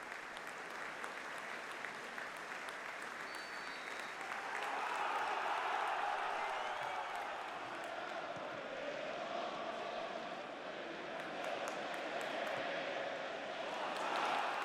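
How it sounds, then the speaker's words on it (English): A large stadium crowd at Villa Park during Aston Villa against West Bromwich Albion gives sustained, distant tribute applause, a broad wash of clapping that swells partway through and continues evenly. "it's applause for former Villa legend Ian Ross and, of course, legendary England goalkeeper Gordon Banks"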